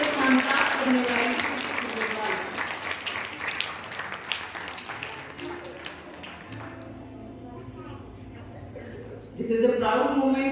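Applause from a crowd at a school graduation ceremony rings out, steady clapping that gradually thins and fades, followed by a voice speaking and a brief swell of sound at the end.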